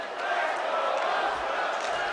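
Wrestling arena crowd in WWE 2K24 roaring and cheering steadily throughout, a dense, continuous wall of crowd noise with no break.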